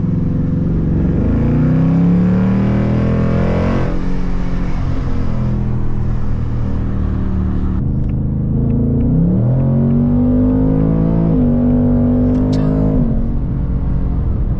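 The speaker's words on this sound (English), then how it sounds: "Track exhaust with the active exhaust." A 2024 Ford Mustang GT with a Gen 1 Coyote V8 and active track-mode exhaust accelerates through the gears, a loud, deep, sustained engine roar heard from inside, rising in pitch with a downshift and gear changes.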